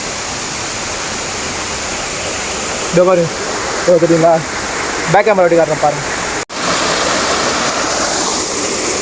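Chitraruvi waterfall at Kutralam roars loud and steady as a constant rushing wash of falling water, with someone talking briefly over it.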